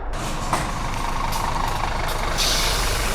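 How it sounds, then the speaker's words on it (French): A truck rumbles past on a Belgian road, with a loud, steady engine roar close by and a hiss of air brakes near the end. "Ah non, il y a un camion"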